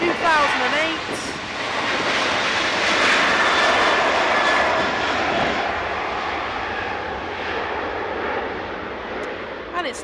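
An 18-year-old TUI Airways airliner departs Manchester for Heraklion, Crete, its engines giving a loud, sustained roar that peaks early and then slowly fades.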